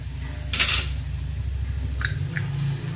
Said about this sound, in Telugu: ఇప్పుడైతే ఎగ్ ఇట్లా ఇట్లా కొట్టేసుకొని